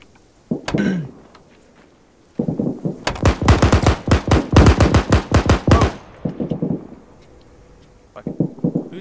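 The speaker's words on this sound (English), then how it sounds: "Who's shooting? Hey, waters, hold fire." Gunfire in the military video game Arma 3: a sharp single shot, then a long rapid automatic burst of loud, close, evenly spaced cracks, followed by a few scattered trailing shots.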